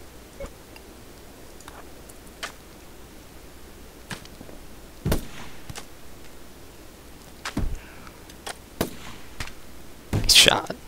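In RimWorld, gunfire meets a mad squirrel, heard as a scattering of sharp, separate shots with irregular gaps between them, the loudest near the end, over quiet game ambience and a voice.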